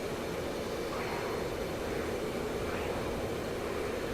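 Continuous drone of an aircraft engine during a flight simulator dogfight, a steady loud hum with faint rising tones as the throttle is worked.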